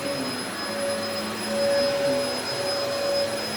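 A vacuum cleaner runs steadily on carpet, a constant whirring motor drone with a high-pitched tonal whine, staying at a fairly even level with a slight swell midway.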